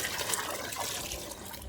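Water pours in a short, steady splashing stream, close by and fairly soft, as diluted waste decomposer solution is poured out for plants.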